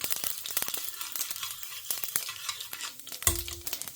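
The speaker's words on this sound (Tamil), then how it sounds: "நெய் இப்போ உருக ஆரம்பிச்சிடுத்து. ஜஸ்ட்டு ஜீரகம் தாளிச்சுன்னு இருக்கேன்." Cumin seeds crackle and sizzle in melted ghee in a home kitchen pan, with stirring clicks and utensil taps over a steady crackle and one louder sizzling burst near the end.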